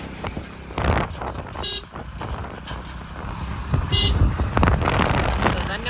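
A vehicle horn honks on a road with a few short toots over rumbling traffic and wind buffeting the microphone.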